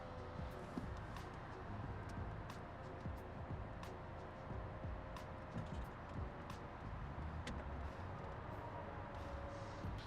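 A manual Mercedes R172 SLK roadster drives with its top down and the neck-level heater running, giving a steady, loud roar of wind and road noise throughout with no talking.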